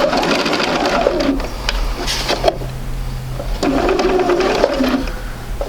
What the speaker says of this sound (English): You really can sew from either side.